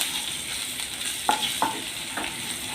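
A quarter teaspoon of asafoetida sautéing in hot oil in a pan gives a soft, even sizzle, with three sharp spatula taps against the metal near the middle of the short stretch.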